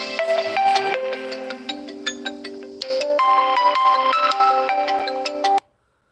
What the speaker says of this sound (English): that was the alarm to tell me to get ready